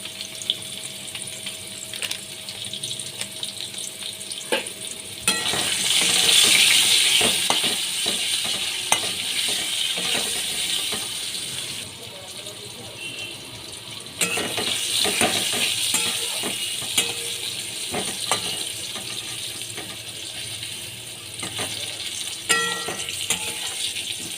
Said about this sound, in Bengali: আলুগুলো ভাজা হয়ে গেছে তুলে নিচ্ছি